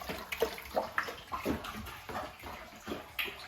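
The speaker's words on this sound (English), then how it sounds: "we're going to give that a good stir" Crushed grapes for homemade red wine being stirred, wet sloshing and swishing in uneven bursts roughly every half second, close and moderately quiet, with no talking.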